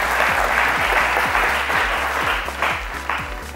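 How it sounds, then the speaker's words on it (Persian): Studio audience at a Family Feud-style game show applauds loudly and steadily, with a rhythmic thumping beat running under the clapping throughout. "شما تشویقش کنین"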